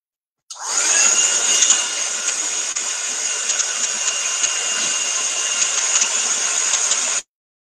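A heat tool blows hot air to dry a painted tile, starting abruptly and roaring as a steady high-pitched whine and whoosh for several seconds before cutting off sharply.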